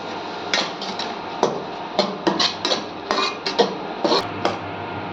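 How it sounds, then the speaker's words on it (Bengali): Spices and eggplant being sautéed in a pan, heard as steady, loud metal spatula scrapes and clinks on the pan over a constant sizzling hiss. "এটাকে ভালো করে এখন আমি কষিয়ে নিই"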